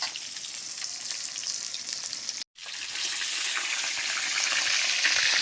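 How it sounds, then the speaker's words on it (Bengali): Fatty pomfret fish heads frying in deep hot oil, a loud dense crackling sizzle that cuts out for a split second and returns even stronger, sputtering steadily up close. "রূপচাঁদ মাছের ভীষণ চর্বি হয়েছে, খুব ফাটছে তেলে দেওয়ার সাথে সাথে"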